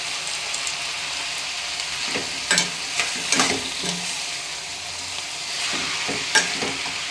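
Chopped tomatoes sizzle in a hot pan, a continuous frying hiss with a few sharp crackles and spatula scrapes while being stirred, with no one talking.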